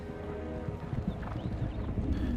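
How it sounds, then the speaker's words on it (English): A large crowd of horses gallops down a hill in a Lord of the Rings film, giving a dense, continuous rumble of hooves under a broad low roar, with no voices. "with that huge crowd of horses galloping down the hill behind him"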